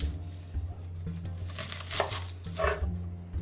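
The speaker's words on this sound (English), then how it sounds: "So we just top the ends off it." A knife slices the ends off an onion on a kitchen board, with a few crisp cuts and dry papery skin crinkling close to the mic.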